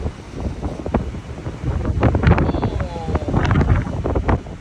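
Strong gusty wind at sea aboard a ship roars and buffets the microphone across the clip, with a steady rushing wash of water beneath and a few faint voices mixed in.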